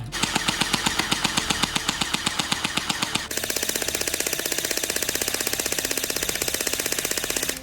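An electric P90 gel blaster fires continuously on full auto, a loud, fast, steady mechanical rattle close by that shifts partway through to an even quicker, slightly different buzzing cadence, with no talk.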